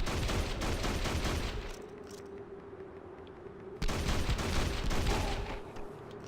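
In Hunter: The Reckoning, dense bursts of gunfire rattle in two stretches, with a short quieter gap between them and a steady hum beneath, with no talking.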